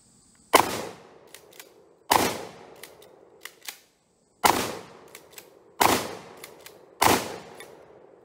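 ATI DF-12 shotgun firing reloaded birdshot outdoors: five loud, close booming shots spaced a second or so apart, each followed by a brief echo and mechanical clacks of the action.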